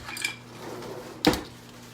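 A pepper is trimmed with a scoop loop tool while preparing a Mexican quinoa bowl. The kitchen is quiet, with a light tap early on and then one sharp, close cutting clack before the room settles.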